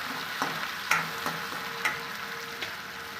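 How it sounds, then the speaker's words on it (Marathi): Onion and tomatoes sautéing for rava upma, a steady close sizzle with a few soft clicks of a spoon stirring the pan, no voices. "आता आपण टोमॅटो टाकून घेऊया याला परतून घेऊया"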